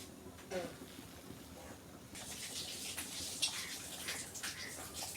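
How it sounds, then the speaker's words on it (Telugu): Excess water splashes and pours out of a cooking pot steadily for a few seconds after a quiet start, with some close handling noise. "కొద్దిగా అంత నీళ్ళు పారవోసుకుందాం మనం"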